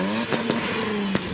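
Mazda RX-7 pulling away from a JDM car show, its engine revving with a steady tone broken by a few sharp blips and pops, fairly close.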